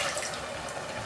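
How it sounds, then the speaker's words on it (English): Water is poured steadily to mix Royco seasoning while cooking beef, giving a continuous close splashing and trickling sound with no speech. "I mix Royco with water"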